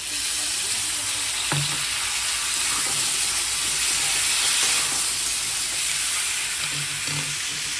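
Ground ginger, cumin and chili paste hits hot oil in a frying pan, giving a loud continuous sizzle with a few stirring knocks, no voices.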